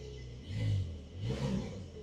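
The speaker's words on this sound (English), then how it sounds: "We'll do a little rev without it on" Porsche 911 engine with the sports exhaust switched off, revved twice in quick succession, each swell rising and falling at moderate loudness from close by.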